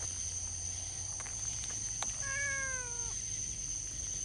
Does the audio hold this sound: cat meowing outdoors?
yes